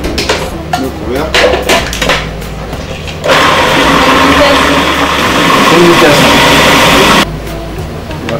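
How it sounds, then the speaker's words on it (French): An electric blender whirs for about four seconds, blending cooked chickpeas with olive oil into a purée, loud and steady, with clattering of utensils and pots before and after. "on va les mixer avec de l'huile d'olive"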